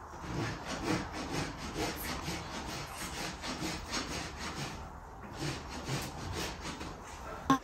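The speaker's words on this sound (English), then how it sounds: "The two fronts are trimmed, but Dan wants to put the feet forward" A farrier's rasp scrapes a horse's hooves in steady, repeated rough strokes, close and moderately loud, with no talking.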